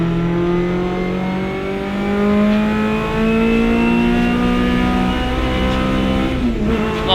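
A 750 Motor Club hot hatch race car at Silverstone during a 2019 race, its engine droning loud and close from inside the cabin, holding steady revs with rising and falling pitch as it accelerates and shifts.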